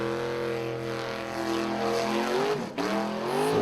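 Off-road race car engine at full throttle during an Icelandic Formula OffRoad event, a loud, sustained roar with a steady tone and a brief dip before it surges again.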